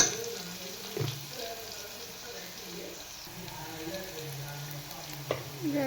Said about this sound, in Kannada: ನೋಡ್ರಿ, ಈಗ ಬಟಾಟೆ ಫ್ರೈ ಆಗಿದಾವು.